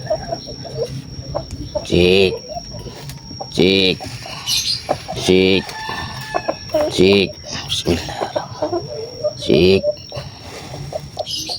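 A chicken clucks and squawks in repeated loud bursts as a man holds it, with his voice speaking between and over the calls close to the microphone.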